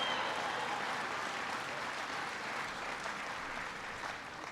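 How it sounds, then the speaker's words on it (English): Audience applause at a speech by President Obama in a new stamping plant: a dense, sustained wash of clapping from a crowd, slowly fading toward the end. "Come on, give Todd a big round of applause"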